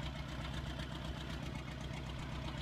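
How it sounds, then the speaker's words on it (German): A 45-horsepower tractor idles in Farming Simulator 19, a steady low rumbling engine hum running evenly without a break and with no talk over it. "Aber ansonsten schöner Trecker. Klingt schön, fährt schön."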